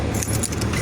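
Keys jangle and clink at close range while unlocking an apartment building's exit door, a busy run of small metallic rattles and taps lasting under a second, with no talking.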